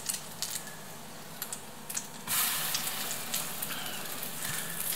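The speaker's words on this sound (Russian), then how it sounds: "И вот так мы будем жарить" Egg-dipped bread frying in a pan with garlic for breakfast, a soft broadband sizzle that swells louder partway through and holds steady, with faint clicks and ticks on top; no talking.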